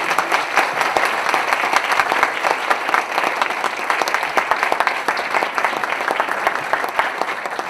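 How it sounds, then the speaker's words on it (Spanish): Sustained applause from a lecture audience honoring a physicist after a talk on art, science and technology, a dense, steady clatter of many hands clapping at moderate distance for the full stretch, with no voices over it. "Vamos a agradecer la presencia de la doctora Libby Henny con un fuerte aplauso"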